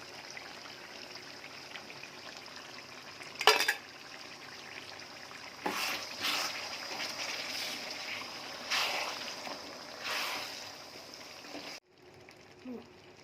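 Tomato and onion-ginger-garlic paste fry in a pan for chicken curry, a steady low sizzle with a few louder bursts and scrapes before it cuts off near the end.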